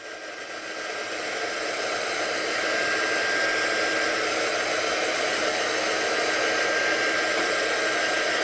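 A heat tool blows steadily to dry a watercoloured sky on card, its broad hissing whoosh rising over the first second and then holding loud and constant throughout, with no talking.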